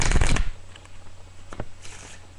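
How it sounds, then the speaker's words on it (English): A deck of playing cards is riffle shuffled close by: a dense half-second burst of fluttering card snaps, followed by a few soft taps as the deck is squared. "One more riffle shuffle."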